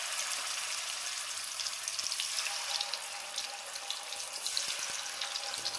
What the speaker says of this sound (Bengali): এবার ম্যারিনেট করা মাছগুলো আমি এক এক করে দিয়ে দেব।